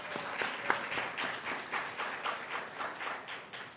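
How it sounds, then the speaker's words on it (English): Applause from an audience at an Incite literary event, a steady wash of many hands clapping at moderate volume throughout, with no voices over it. "Let's give a round of applause for that."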